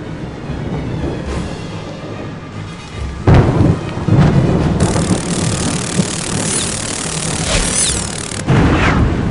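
Stormy thunderstorm effect with steady heavy rain and wind throughout, broken by loud rolling thunder cracks near the middle and again at the end, no voices.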